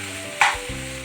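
Marinated soya chunks, coated in soy sauce, vinegar, barbecue sauce, chilli sauce, green chilli and salt, frying in a pan: a steady close sizzle with a brief scrape of stirring.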